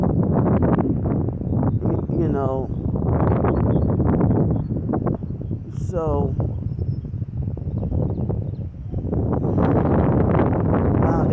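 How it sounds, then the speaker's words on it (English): Strong outdoor wind buffets a microphone in loud low rumbling gusts, nearly continuous with brief lulls, while someone talks over it. "now the wind is very strong"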